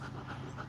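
A dog pants close by in quick, rhythmic breaths, a soft, faint huffing repeated several times in under a second with no talk.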